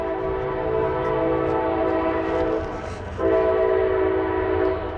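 A train rumbles past outdoors with a long, loud sustained horn blast that breaks off briefly and then sounds again over the steady roll of the railcars.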